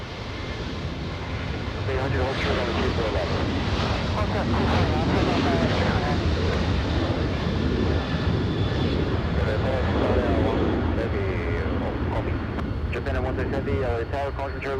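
A Delta Airlines jet airliner departing Los Angeles LAX bound for Austin, Texas, gives a broad, sustained engine roar that swells after a couple of seconds and holds steady, with people talking over it.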